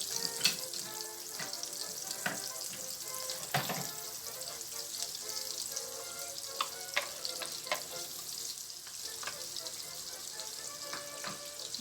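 Butter sizzles and crackles steadily in a hot oiled pan while mushroom and pork dish cooks, with scattered clinks and scrapes of stirring over a continuous frying hiss.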